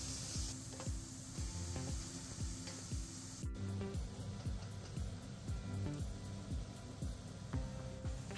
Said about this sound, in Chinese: 锅里放入油，用中大火把牛肉煎至熟透